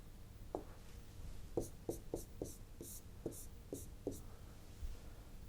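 An eraser wiped across a teaching board during an engineering lecture on structural analysis, heard as about nine quick, evenly spaced rubbing strokes, fairly close, with no talk over them.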